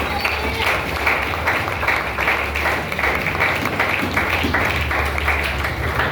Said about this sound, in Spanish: Dele fuerte palmas a Jesús en esta hora.